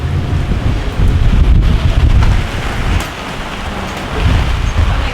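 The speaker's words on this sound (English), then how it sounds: "We got sideways rain." Wind-driven sideways rain lashing a boat yard during a storm, a loud, continuous roar of rain and gusting wind buffeting the microphone, rising and falling in intensity throughout.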